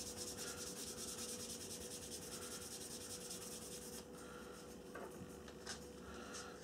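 Fine sanding edge rubbed along a model aircraft wing's trailing edge to clear glue seepage, a steady close scratching rasp that grows quieter and softer after a few seconds.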